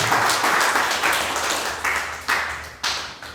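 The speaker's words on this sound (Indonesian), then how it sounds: "Kasih tepuk tangan yang meriah untuk Tuhan." Congregation applauding during a church service, a dense, steady wash of clapping that swells in short bursts near the end, close and fairly loud with no talking.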